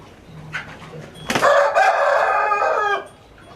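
A fighting rooster crows once, loud and close, a harsh drawn-out cock-a-doodle-doo lasting over a second after a brief cluck, with quiet background.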